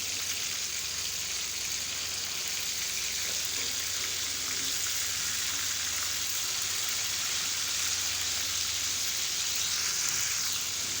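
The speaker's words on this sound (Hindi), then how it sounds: "2 से 3 मिनट एक साइड से हम इसको फ्राई करेंगे और 2 से 3 मिनट साइड पलटने के बाद हमने इसको फ्राई करना है।" Pieces of chicken tikka sizzle and fry in a pan with a steady, dense crackle that stays loud and even throughout, with no voices over it.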